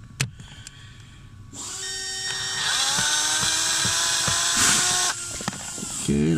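Cordless power driver whirring at steady high pitch as it backs a screw out of a car's blower motor resistor, starting after a short pause and running several seconds before stopping, with brief clicks and handling sounds around it.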